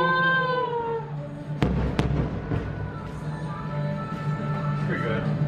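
Fireworks show seen from a Bay Lake Tower hotel room with the door cracked open, a couple of sharp distant bangs and crackles rising out of a low rumble while someone talks.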